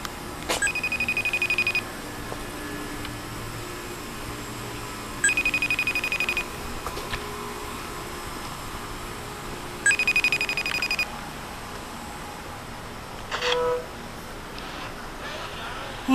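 A phone rings out on an unanswered call, sounding three ringback-style tone bursts a few seconds apart, each about a second long, over steady background noise, with a short extra beep near the end.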